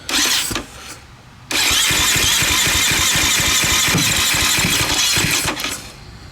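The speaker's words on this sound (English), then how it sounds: "So we're just going to bump the starter and see where gas comes out." A KTM motorcycle engine cranks on its starter in a workshop while its carburetor is checked for a fuel leak: a short burst of cranking, a pause, then a long steady run of loud, rapid mechanical churning that eases off near the end.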